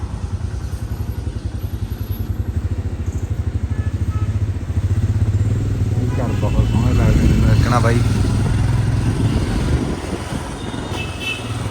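Motorcycles riding through heavy road traffic, a steady close engine drone with rumbling wind and road noise, with other vehicles passing and people talking over it.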